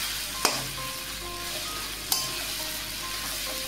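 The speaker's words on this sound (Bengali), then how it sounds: "এবার এগুলো একটু হালকা করে ভেজে নেব।" Chopped onions fry lightly in hot oil in a pan for a spicy Bengali chicken curry, giving a steady close sizzle. Two sharp clacks of a spatula against the pan cut through it, about a second and a half apart.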